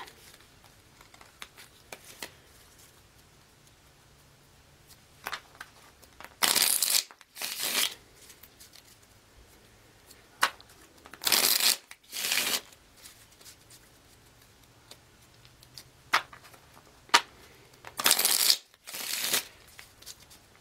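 Tarot cards being shuffled in several short, crisp bursts separated by quiet pauses, close and clear, riffling rapidly each time.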